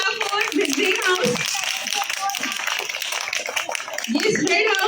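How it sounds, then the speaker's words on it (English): An audience at a school quiz contest between house teams claps in a burst of scattered, overlapping hand claps, while people talk over and around the applause. "there must be clap for green house"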